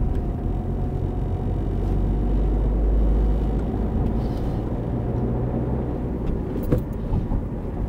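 A car engine rumbles steadily as the car drives through a roundabout during a driving lesson, easing off the accelerator and pulling away, with constant road noise throughout.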